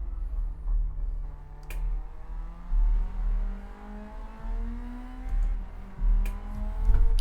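Ford Sierra RS Cosworth engine on a lap in Gran Turismo 7, droning steadily with rising and falling pitch as the car accelerates and shifts, a few sharp clicks punctuating the continuous near engine sound.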